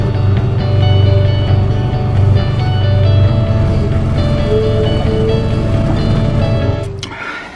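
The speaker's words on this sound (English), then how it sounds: "now I'm gonna drive off" A car pulling away and driving, a loud steady engine and road rumble heard from inside for several seconds before it tapers off at the end.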